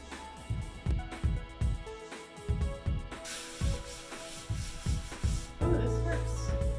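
Rhythmic scrubbing strokes on a bathroom wall with Crud Cutter cleaner in a 1960s bathroom, repeated rubs close up, ending in a steadier broadband rush.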